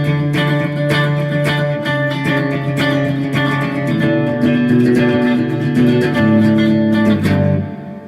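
A distorted electric guitar plays a steady repeating octave riff, loud and sustained with crisp picked attacks, no voices.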